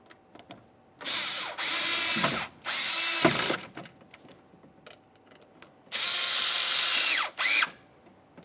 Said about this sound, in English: Start in all 3 of our Phillips head mounting screws, and then you can snug those up as well.